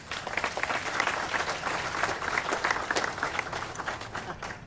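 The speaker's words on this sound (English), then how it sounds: "So please give a round of applause to PNC, who's one of our investors." An outdoor crowd at a groundbreaking ceremony for the West Side Market transformation in Cleveland claps steadily, a dense wash of many hands that stays at an even, moderate level from start to finish.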